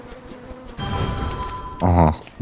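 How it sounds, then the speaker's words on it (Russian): Steady insect drone of bees buzzing in the video game Don't Starve Together, a sustained layered hum heard alone for a moment before a voice speaks over it. "Пчелки гудят."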